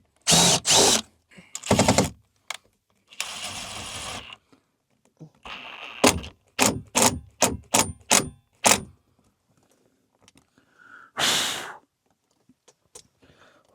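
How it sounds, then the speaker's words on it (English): Power drill bores a hole and drives a screw into a camper rail during a campervan conversion, with a series of short, loud whirring bursts separated by pauses, then one final longer burst. "watch me drill a hole and put a screw in"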